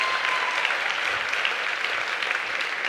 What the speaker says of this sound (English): The people clapping for NYIMC are clearly not silent meditators.